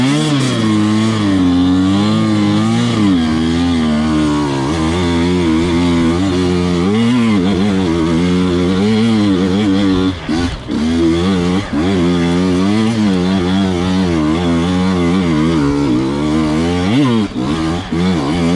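A motorbike engine revs hard and close, climbing in pitch through the gears with brief dips at each shift, loud and continuous throughout.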